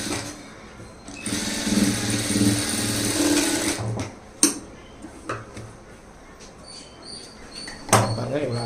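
A sewing machine stitches a blouse with a lining, running in a loud continuous whir for a few seconds, then falling to quieter clicks, handling noises and a few sharp knocks before a brief final burst.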